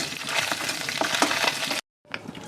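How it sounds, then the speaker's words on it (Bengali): Paneer pieces fry in hot oil with a dense, crackling sizzle close by, broken by a brief silent gap before the sizzling resumes, and no voices. "এবার পনিরগুলোকে প্রথমে আমি ভেজে নেব"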